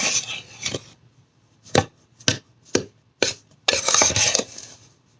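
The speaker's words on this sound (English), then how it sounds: "We're going to stir this up again." Seasoned fish fry coating mix with Morton seasoned salt being stirred, heard as a series of sharp scraping and tapping strokes of a utensil against a container, several quick hits with short pauses between, close and alone.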